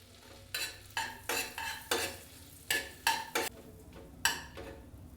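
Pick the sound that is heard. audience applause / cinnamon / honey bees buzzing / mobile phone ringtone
cinnamon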